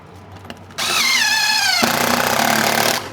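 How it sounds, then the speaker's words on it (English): A DeWalt Atomic 20 volt cordless drill spins up abruptly, whining loud and close for about two seconds with a shift in pitch midway before stopping, with no talking. "Love that sound, man. With my DeWalt Atomic 20 volt."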